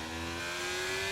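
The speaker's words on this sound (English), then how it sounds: "Off the line, bit of wheel spin." An F1 car in the F1 23 racing game launches off the line at low revs with a bit of wheelspin, its engine a loud, steady rising whine that holds for a moment with no talk.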